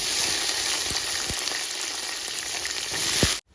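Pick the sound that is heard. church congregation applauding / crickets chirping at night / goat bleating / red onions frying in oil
red onions frying in oil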